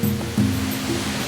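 Rushing water pours steadily at Biga Falls, a loud, continuous wash of noise with a low hum beneath it.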